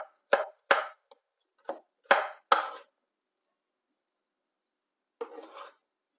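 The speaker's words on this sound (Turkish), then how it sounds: "Sarımsaklarını da üzerine birazcık vurarak iri bir şekilde doğruyorum." Knife coarsely chopping garlic cloves on a board, five or six quick rasping strokes in a burst, then a pause and one more stroke, close and dry with no talk.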